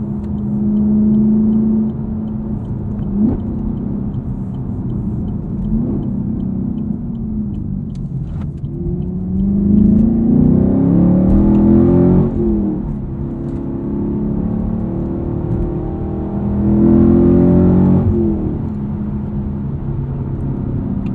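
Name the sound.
car engine revving while driving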